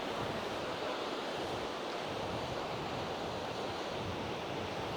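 Steady roar of surf and breaking waves at Hayle Beach in Cornwall, continuous and full-bodied with wind noise buffeting the microphone throughout, no voices.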